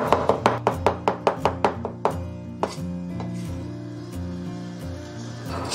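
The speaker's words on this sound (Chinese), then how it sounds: "我们先给它切片，然后再给它剁成肉末" A knife chops a small piece of washed beef into mince on a board, with a fast, even run of about a dozen sharp thuds that ends in a couple of slower, louder strikes.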